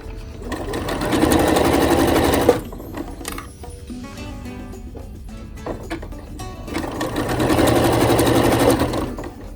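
A sewing machine stitching a skirt runs in two fast, steady bursts of whirring. Between them comes a quieter gap with small mechanical clicks and fabric handling.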